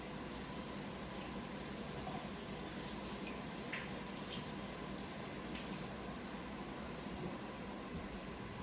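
Tap water runs steadily into a kitchen sink while items are washed during taco soup preparation, a faint, continuous hiss and splash with no break.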